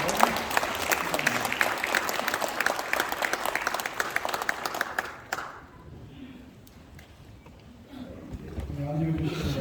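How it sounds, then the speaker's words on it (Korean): A standing crowd at a church assembly gives loud, dense applause that carries for about five seconds, then dies down into murmuring and shuffling before some noise rises again at the end. "그러면은 우리 다 함께 일어나는 뜨거운 박수로"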